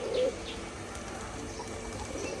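A biscuit-coloured cock pigeon coos once, a brief low throaty call near the start, followed by a faint hum of background noise in the loft.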